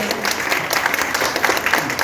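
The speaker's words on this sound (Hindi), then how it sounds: "मैं आदरणीय सतपाल मास्टर जी पर जोरदार तालियों से स्वागत करता" Audience clapping to welcome a speaker at a political gathering, brisk uneven claps close by with some voices underneath, continuing throughout.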